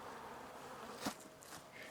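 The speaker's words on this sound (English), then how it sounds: "I got a lot of work to do with the bee yard on rescuing my honeybees" Honeybees in a homestead bee yard: a faint, steady buzzing hum that persists for the whole moment, with a brief, slightly louder swell partway through.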